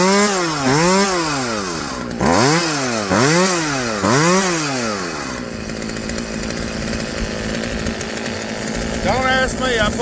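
A Poulan chainsaw, newly fitted with a replacement gas line and with its carburetor screws far out of adjustment, revs loudly in rising and falling surges before settling into a steady, rough idle, then revs once more near the end.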